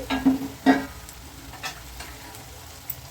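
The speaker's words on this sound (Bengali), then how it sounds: "এটাকে আমি একটু ভালো করে নেড়ে চেড়ে দিচ্ছি" A drumstick curry is stirred in a pan, with a few scraping strokes of the spoon up front over a low continuous sizzle, then a quieter simmer with faint taps.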